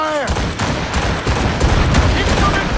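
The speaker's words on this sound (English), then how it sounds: "She fires many volleys" Ship cannon volleys in a naval battle in Assassin's Creed Rogue, a dense, loud rolling barrage of booming shots with crackling debris, continuous across the short span.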